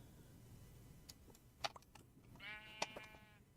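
A sheep bleats while riding in a minecart in Minecraft, giving a single faint bleat among soft clicks and background game sounds.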